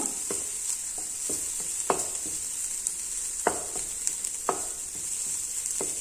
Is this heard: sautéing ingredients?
yes